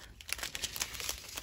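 Scissors cut apart small plastic diamond painting bags, giving a quick, continuous run of close crinkling and snipping plastic, fairly quiet with no voices.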